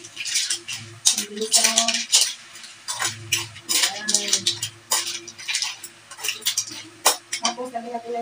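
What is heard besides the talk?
stirring food in a cooking pot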